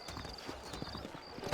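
Horse hooves clip-clop in a steady walking rhythm in the Red Dead Redemption game world, fairly close and moderately loud, with a faint whinny-like touch near the end.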